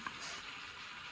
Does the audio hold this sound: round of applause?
no